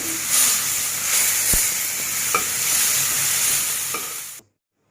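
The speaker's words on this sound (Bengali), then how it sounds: "এইভাবে টমেটোটা আমি ভালো করে তেলে নেব।" Tomatoes fry in hot oil with a loud, continuous hissing sizzle, broken by occasional spatula taps and stirring scrapes close by, before the sound cuts off abruptly at the end.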